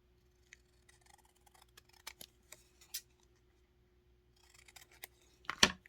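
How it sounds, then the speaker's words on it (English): Scissors cutting soft journal cover material, quiet and close, with scattered snips and crisp clicks of the blades and a louder cut at the end. "I just need to cut a little bit off the bottom"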